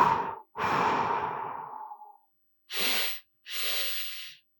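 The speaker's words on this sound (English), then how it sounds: "So the breathing is really slow." Slow, quiet qigong breathing: one long exhale, then a longer breath trailing off, followed by two shorter soft airy breaths, close and alone with no talk.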